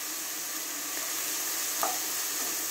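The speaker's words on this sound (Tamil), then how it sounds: "இத நல்ல பச்சை வாசம் போற வரலும் வதக்கிரலாம்" Ginger garlic paste with green chilli and onion sautéed in a pan for chana masala, giving a steady soft sizzle with light stirring scrapes and one brief clink, moderately quiet and close.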